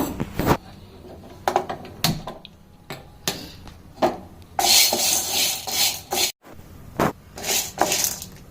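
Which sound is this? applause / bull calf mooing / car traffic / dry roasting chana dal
dry roasting chana dal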